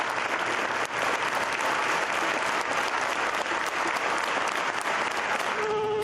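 A minute of applause from a crowd paying tribute at a memorial gathering, dense, steady clapping sustained loud and close throughout with no pause.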